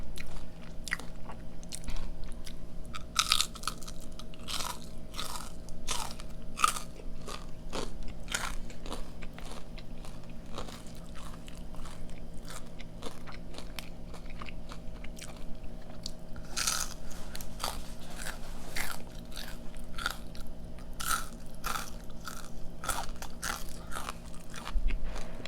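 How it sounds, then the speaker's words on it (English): Crunchy onion rings at a mukbang eating session are bitten and chewed close to the mic, producing a dense, steady run of sharp crackling crunches for the whole stretch with no talking. "The crunch of the onion rings are just amazing right now."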